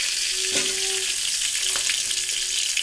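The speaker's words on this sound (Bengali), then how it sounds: "আলু সব দেওয়া হয়ে গেছে, এবার তেলের ওপরে একটুখানি ভেজে ভেজে নেব।" Potato pieces sizzle steadily in hot oil for a vegetarian Bengali dish, a dense crackling hiss with a few brief scrapes of stirring, close and alone.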